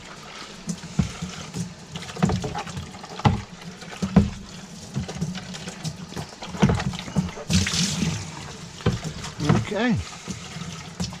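Water filling and rinsing a small cavity in a fig tree, with sloshing, trickling splashes that come in uneven bursts, close by, while a person speaks briefly.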